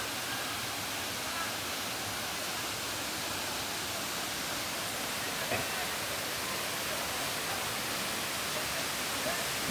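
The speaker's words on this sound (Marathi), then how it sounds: "आणि हा सावडाव धबधबा कसला भन्नाट आहे, एकदम पाण्याने भरलाय," Savdav waterfall in the Konkan, full of water, roars as a dense, steady rush of falling water, loud and continuous throughout with no pauses.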